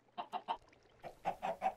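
Minecraft chickens cluck in two quick bursts of three or four short, clipped clucks split by a brief pause, fairly faint and close, with no speech over them.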